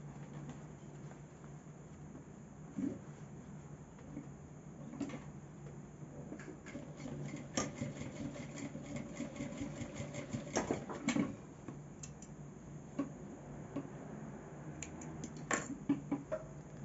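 A sewing machine stitches bias binding onto fabric for a simple eyeglass case, giving a steady, fairly quiet mechanical whir with scattered small clicks and knocks and no talking.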